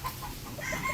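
Chickens, stags and hens raised for sale, clucking softly at moderate distance in a short burst, with no talk.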